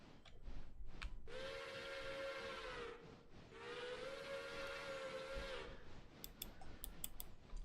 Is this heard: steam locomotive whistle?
yes